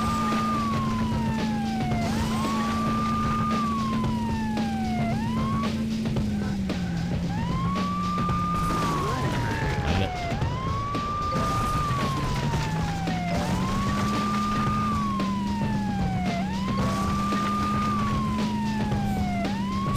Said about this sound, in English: I was wondering if the siren would work from this far back.